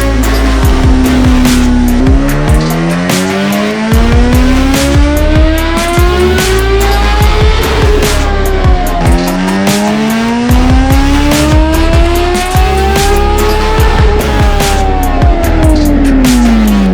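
A 2023 Kawasaki Z H2 supercharged motorcycle with an aftermarket exhaust and ECU flash revs hard on a dyno, two long loud pulls climbing steadily in pitch, each cutting off before the engine drops back and winds up again.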